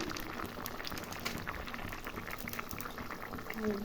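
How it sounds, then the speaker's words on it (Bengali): Thin rohu fish curry broth bubbles at a rolling boil in a pot, a steady close, continuous churning burble with soft popping throughout. "ঝোল ফুটে গেছে, এখানে যে মাছগুলো দিয়ে দিলাম।"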